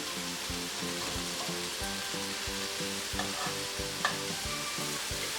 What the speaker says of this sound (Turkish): Aynı şekilde bu taraflarından nar gibi kızartacağım.